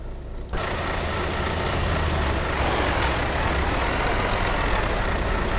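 A truck in Euro Truck Simulator 2 gives a sharp burst of air-brake noise, then a steady engine rumble. A short hiss comes partway through, and there is no talk over it.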